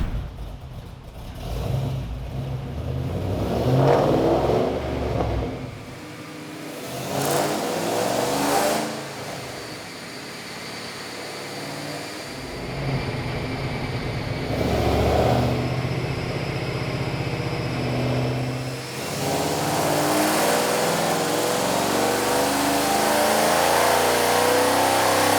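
A 2009 Mustang GT/CS with the 3-valve V8 roars through a dyno pull, loud and close, rising in long revving sweeps that drop back between hits, with no talking over it.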